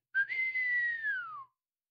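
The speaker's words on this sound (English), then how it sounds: "to his team gave a whistle" During a Christmas story about Santa Claus calling to his sleigh team, a single clear whistle sounds, a sustained tone that slides gently downward and fades.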